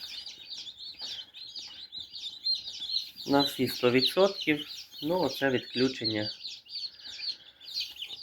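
Newly hatched incubator chicks cheep constantly, a dense high-pitched chorus of peeping close by, while someone speaks over them in the middle.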